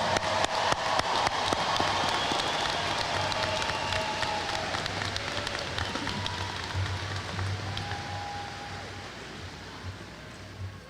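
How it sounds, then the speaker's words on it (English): A graduation crowd applauds and cheers in a dense, continuous wash of clapping that starts strong and gradually thins, with scattered whoops rising above it. "give these students some cheer and let them hear how proud you are of them"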